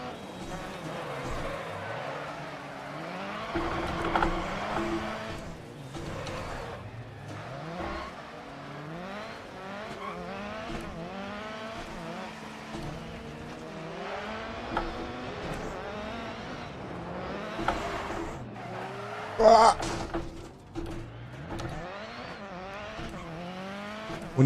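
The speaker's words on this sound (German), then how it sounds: "Und der Subaru ist, ich muss es einfach sagen, wahnsinnig schwer zu fahren." Subaru rally car in the racing game Dirt Rally, its engine droning and revving continuously with tyre scrabble and skid noise, a sharp impact burst near the end, with talk over the top.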